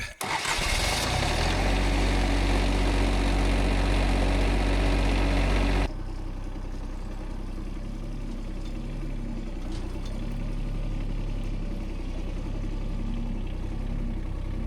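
A heavy engine cranks and roars to life loudly, then settles into a lower, steady idle rumble that continues to the end.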